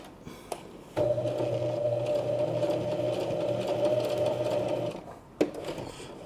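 A sewing machine runs steadily for about four seconds while stitching a simple coin purse, its motor hum loud and close, stopping with a brief click and clatter afterward.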